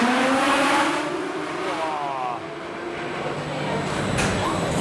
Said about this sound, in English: You can hear, of course, these heat up and propelling the coaster